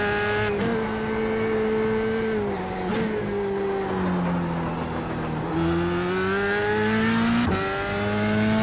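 An F3 race car engine in the iRacing game at Mount Panorama drones loudly at high revs down the long straight, pitch sliding and dipping with gear changes and brief gaps between shifts, with no voices.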